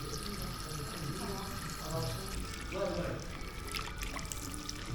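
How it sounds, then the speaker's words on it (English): Water running at a barber's sink in Turkey during a beard wash, a steady trickling and splashing stream close by, with voices murmuring over it. "Oh, he washed my beard."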